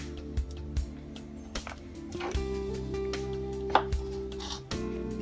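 A knife chopping swordfish, shrimp and tuna into big chunks for kebabs on a cutting board, several distinct knocks spaced irregularly over a steady low hum, close, with no talking.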